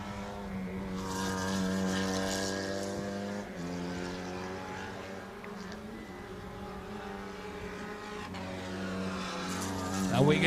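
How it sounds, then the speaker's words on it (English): A Formula 2000 race car crosses the start-finish line at a motor racing championship, its engine a loud sustained tonal drone rising and shifting pitch as it passes, with a commentator speaking over it. "Now we can hear the sounds of car number 80, Tarun Mutaya, crossing the start-finish lin"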